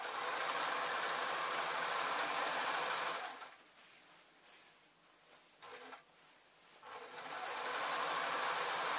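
A sewing machine stitching a mop hat runs in a loud, steady whir up close, drops to quiet stop-start pulses for a few seconds, then speeds back up to a full steady hum.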